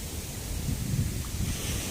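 Sea waves at Tiwi beach in Albay, a steady wash of surf mixed with wind buffeting the microphone, continuous and fairly close.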